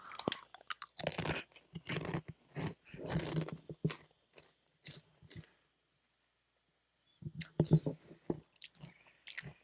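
Close, loud crunching of Cheetos snacks being chewed in bursts of crisp bites, pausing briefly near the middle before the munching resumes, with no talking.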